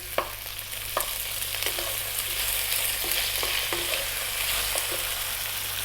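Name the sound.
pork being stir-fried on high heat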